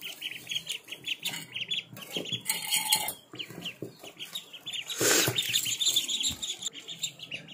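Newly hatched ducklings chirp loudly and continuously, a dense, busy chorus of high peeping calls close by with no talking.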